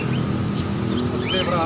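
Birds chirping and tweeting inside a bird shop selling many kinds of birds, cages and feed, with small repeated calls under a steady crowded background, and someone talking at moderate loudness.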